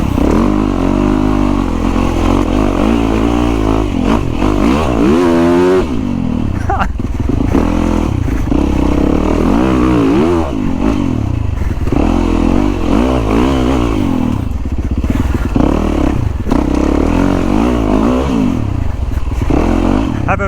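A Yamaha YZ450FX dirt bike engine revs and accelerates hard while being ridden, loud and close, with repeated throttle bursts, clattering and shifting pitch throughout.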